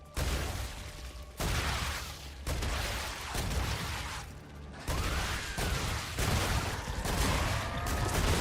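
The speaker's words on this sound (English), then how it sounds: "Now we reload" Mechanical clicks, clacks and ratcheting of a weapon being reloaded in a wave-based shooter video game come in sharp, separate bursts over steady loud game ambience.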